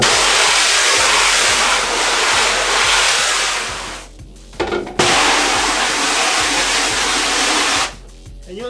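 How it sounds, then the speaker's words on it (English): A water jet sprays a screen-printing screen at close range with a loud, steady hiss. The hiss drops out briefly twice as the spray is shifted, then comes back just as loud. "So what I'm going to do is I'm going to spray the water in the front and then in the back."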